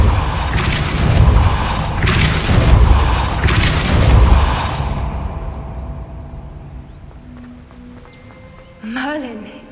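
Repeated heavy booming blasts of the Depulso spell in the Hogwarts Legacy video game, three loud thudding bursts in quick succession followed by a fading rumble, with a brief whooshing magical sweep near the end.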